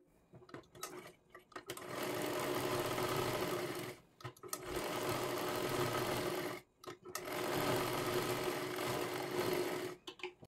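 A sewing machine stitching fabric along three sides of a square for a small girl's frock, whirring steadily in three long runs with brief pauses and handling clicks between them, close and alone.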